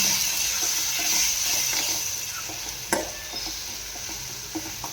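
Turmeric and chilli powder are stirred into besan in a hot pan, a steady hiss with soft scraping strokes and one sharper clink partway through, close and fairly even throughout.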